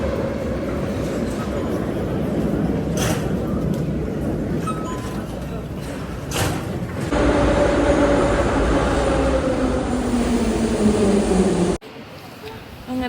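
A metro train rolls along in Georgia, a steady loud rumble of wheels and carriage noise with a rising whine as it runs, then an abrupt drop to quieter ambience near the end.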